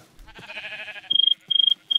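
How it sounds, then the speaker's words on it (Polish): A sheep in a video game gives one buzzy, wavering bleat, then a high electronic chirping pulses on and off three times, clear and close with no talk. "I owce! Me, me"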